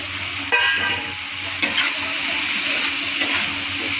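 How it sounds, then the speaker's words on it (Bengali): Potatoes frying in a pan with peas and turmeric, a steady close sizzle broken by a few sharp stirring knocks, no voices. "আলুটা খুব সুন্দর করে ভাজা করব।"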